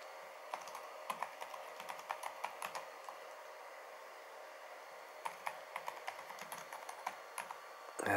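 A password typed on a computer keyboard during a Fedora 36 ARM Beta setup on a Phytium D2000 machine: bursts of quick, light key clicks, a pause in the middle, then another run of keystrokes, close and fairly quiet.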